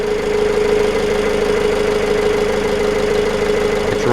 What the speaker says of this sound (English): As you can hear the engine right now.